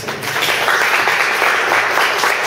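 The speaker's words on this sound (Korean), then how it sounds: "다시 한번 박수 한번 부탁드립니다." Steady, dense applause from a seated audience at a talk fills the whole stretch, even and fairly loud with no voices standing out.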